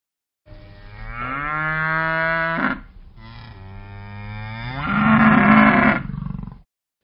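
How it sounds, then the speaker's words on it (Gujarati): A cow lows twice in long, loud, drawn-out calls, the second rising stronger before breaking off, heard alone and close. "ગાય ભાંભરે છે."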